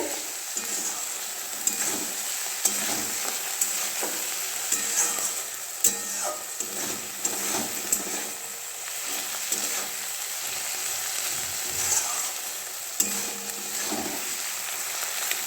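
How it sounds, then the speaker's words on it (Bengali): Palak spinach and a fish tail frying in a pan while being stirred, a continuous loud sizzle broken by regular scraping and tapping strokes of the stirring utensil, with no one talking. "দেখো ভেজে নিচ্ছি। দেখো এটা ফ্রাই হচ্ছে।"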